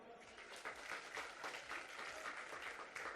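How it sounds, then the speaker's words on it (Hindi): Steady applause from an audience at a sangeet wedding ceremony, dense, continuous clapping filling the whole stretch at moderate loudness. "तो क्यों ना जोरदार तालियां हो जाए।"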